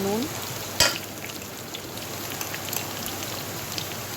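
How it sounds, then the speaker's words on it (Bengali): Cut potatoes are stirred into onions browning in hot oil, giving a steady close sizzle with one sharp utensil scrape near the start, then continuous frying crackle. "লাল কালার এসে গেলে ওর মধ্যে দিয়ে দেবো কেটে রাখা আলুটা দিয়ে এইভাবে নেড়ে চেড়ে নেবো একটু"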